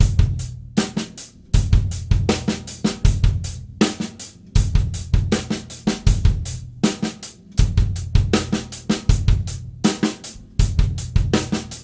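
Close, loud snare drum plays a two-beat funk groove that joins a paired 16th-note figure with a second pattern, dense crisp strokes cycling evenly for around twelve seconds, with no talking.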